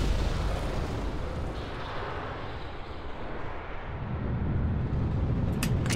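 Rocket engine lighting at launch in Kerbal Space Program with the RP-0 mod: a loud, steady broadband roar fills the whole stretch, dipping slightly midway before swelling again, with no talk over it.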